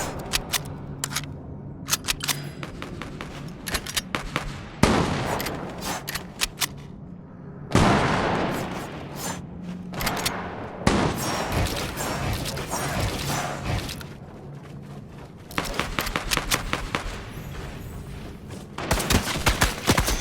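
Gunfire in the video game Fortnite rings out in rapid repeated bursts and single loud shots, separated by short pauses.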